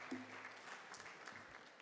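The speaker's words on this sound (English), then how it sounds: "Let's give him a round of applause, ladies and gents." Faint, distant applause, a continuous patter of many hands clapping at a low level throughout.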